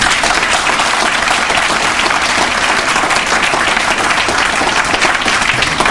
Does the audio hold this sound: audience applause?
yes